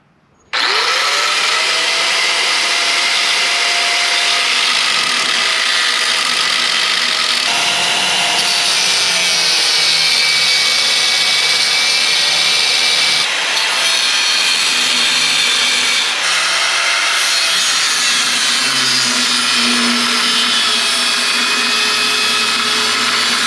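Power tool cutting and grinding metal on a Jeep Willys, a loud high whine that starts abruptly and runs continuously, shifting pitch and tone several times as the cut progresses.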